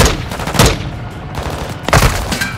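Gunfire in Call of Duty: Modern Warfare II, loud close bursts of automatic shots, with sharp cracks near the start and again toward the end over a dense battle din.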